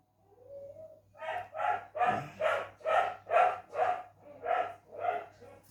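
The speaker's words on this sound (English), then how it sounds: "He barks at everything." A dog barking about eight times in a steady, evenly spaced series, each bark loud, close and tonal.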